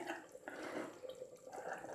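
Water, about a quarter cup, is poured into flour in a bowl and stirred into a thin slurry for thickening mutton kunna broth, a continuous close splashing and swishing that stays fairly quiet throughout, with no talk.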